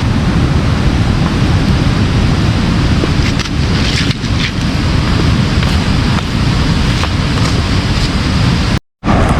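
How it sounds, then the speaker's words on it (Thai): A distant waterfall at Soi Sawan in Khong Chiam, Ubon Ratchathani, heard as a loud, unbroken broadband roar of rushing water that holds steady for the whole stretch before a brief cut near the end. "ได้ยินเสียงน้ำตกไกลๆนะครับ"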